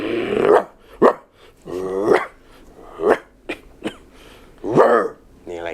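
People take turns imitating dog barks and growls with their voices, a series of short rough yaps and snarls separated by brief pauses.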